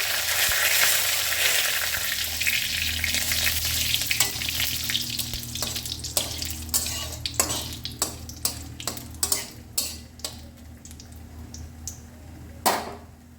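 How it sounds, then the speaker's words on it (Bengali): Cumin and bay leaf frying in oil, with a strong sizzle that fades over several seconds while spoon taps and scrapes against the pan grow sharper and more frequent, heard close up. "জিরেটা ভাজা হয়ে গেছে।"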